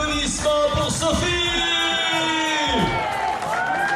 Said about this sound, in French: Applaudissements pour Sophie.